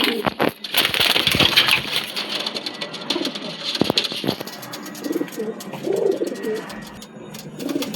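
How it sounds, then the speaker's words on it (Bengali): Racing pigeons coo in a loft, soft repeated throaty calls among rustling and flapping, close by with no speech. "এটা রেসারের জোড়া একটা।"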